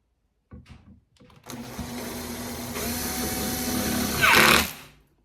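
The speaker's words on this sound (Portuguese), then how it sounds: "Aí agora eu parafuso." A power screwdriver whirs steadily for a few seconds while driving a screw into a kitchen cabinet gas piston, rising to a louder, strained burst near the end before stopping abruptly.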